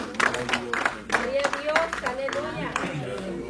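Church congregation clapping in praise during a Sunday service, rhythmic claps mixed under singing or calling voices, moderately loud and close throughout.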